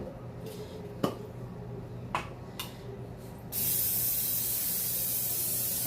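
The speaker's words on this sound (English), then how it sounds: "So now I'm going to spray this glass pan." Cooking spray misted onto a glass pan, a continuous hiss starting partway through after a few soft clicks and taps from handling the can.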